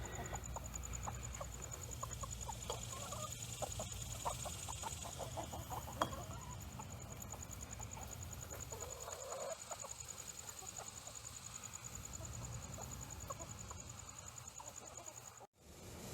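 Backyard laying hens cluck softly and intermittently at a farm homestead in Deep South Texas, with a steady insect-like hum running throughout.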